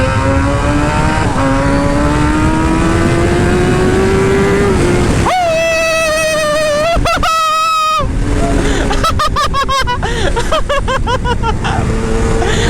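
A Kawasaki ZX-10R sportbike with a GP shift pattern roars close and loud, its engine revving up through the gears with rising whines, quick clutchless shift cuts and a rapid stuttering burst of blips.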